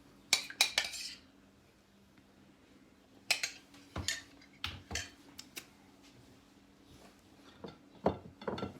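A metal spoon scrapes and clinks against a dish of mayonnaise for a Caesar salad, in scattered bursts of short scratchy strokes and taps separated by quiet pauses over a faint steady hum.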